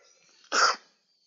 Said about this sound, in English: Just sneeze.